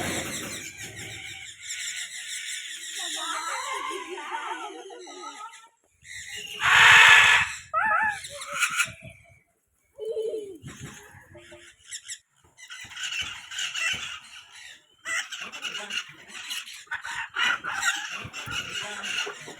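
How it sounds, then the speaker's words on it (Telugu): Assorted birds in a park aviary at Fundera park in Yelagiri, giving sharp squeals, crowing and clucking calls in bursts separated by short quiet gaps, fairly close and with no talking. "వెరైటీ వెరైటీ పక్షులంతా అక్కడ కూర్చొని శబ్దాలు చేస్తున్నాయి."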